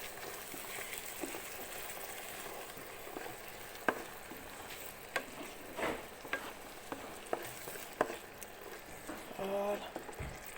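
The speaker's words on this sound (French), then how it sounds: "Et je vais mélanger." Flat green beans and sauce are stirred in a frying pan: a steady soft sizzle with scattered utensil clinks and scraping taps, all close, and a voice briefly heard near the end.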